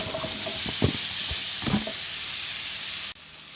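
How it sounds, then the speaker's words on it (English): Zucchini sears in a hot pan with lemon and garlic seasoning, a loud steady hiss with a few stirring scrapes before the sound cuts off abruptly near the end. "So with the leftovers, I'm gonna go ahead and grill up these zucchini."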